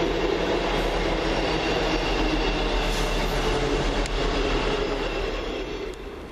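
A Class 158 diesel unit on a Northern Rail service from Leeds to Manchester Victoria rolls past near Rochdale, giving a loud, steady, close rumble that lasts throughout and begins to fade at the very end.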